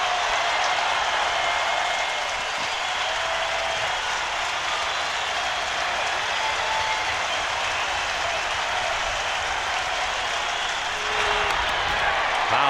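A baseball stadium crowd at a Dodgers–Giants night game cheers and applauds steadily as a pitcher works toward a strikeout, a broad sustained roar of distant voices and clapping with no break.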